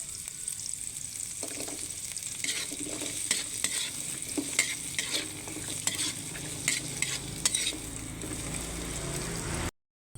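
Green beans stir-fried in a pan give a steady sizzle under repeated scraping and stirring strokes from a utensil, close and fairly loud, before a sudden cutoff at the end.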